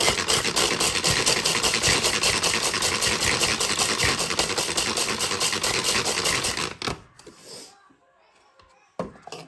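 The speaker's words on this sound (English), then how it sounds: "food chopper here. And you can do them as crumbs" A small electric food chopper runs continuously, crushing crumbs for a low-carb strawberry cheesecake base, with a loud steady motor whir for several seconds, then stops abruptly, leaving a few faint handling knocks.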